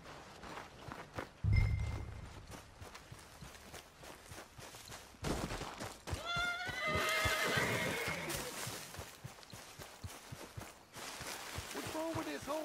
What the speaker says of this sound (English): What's got this horse spooked